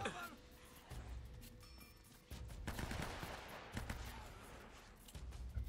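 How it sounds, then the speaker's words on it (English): Enemy gunfire in Uncharted: Drake's Fortune, a dense rattle of automatic shots and bursts, fairly faint and slightly distant, recurring throughout with brief lulls. "usually when you hear them shooting, that means there's still monster guys running around"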